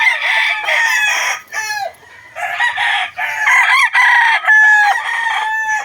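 Boston Golden Boy gamefowl rooster crowing loudly and close, several drawn-out crows in a row separated by short pauses.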